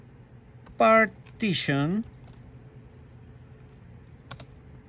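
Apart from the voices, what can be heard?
typing a command on a computer keyboard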